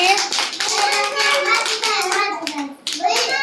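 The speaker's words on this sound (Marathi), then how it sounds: "ज्यांचं झालंय त्यांच्यासाठी जोराने टाळ्या वाजवा" Young children at an anganwadi clapping their hands together in scattered, uneven bursts, mixed with a voice speaking over them and some children's chatter.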